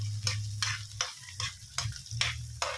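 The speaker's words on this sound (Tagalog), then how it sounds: "gisa na guys ha. Kamatis, sibuyas Mumbai, bawang, luya." Tomato, onion, garlic and ginger sautéing in a pan, with a steady sizzle under repeated bursts of stirring and scraping, about six strokes at a regular rhythm, close and fairly loud.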